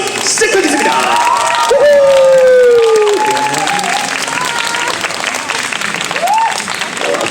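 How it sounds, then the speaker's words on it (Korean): A crowd at a travel writer's talk concert applauds loudly and continuously, with cheers, whoops and whistle-like shouts rising above the clapping. "우리 청춘유리 토크 콘서트 박수로"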